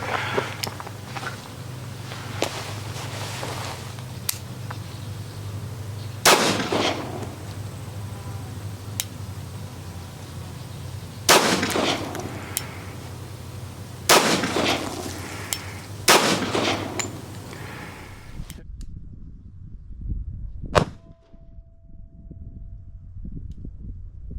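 Full-size M1911 pistol firing .45 ACP Federal HST 185-grain rounds outdoors, several sharp loud shots spaced a few seconds apart over a low steady hum, ending in near silence.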